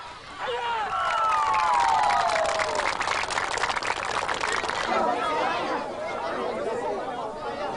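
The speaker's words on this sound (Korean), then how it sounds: "천여 명의 주민이 관람하는 가운데 펼쳐진 태권도 시범은 구경 나온 주민들로부터 열렬한 환호와 박수갈채를 받았다" A crowd of about a thousand residents in East Timor cheers and applauds a taekwondo demonstration, with dense steady clapping, chatter and raised voices filling the scene throughout.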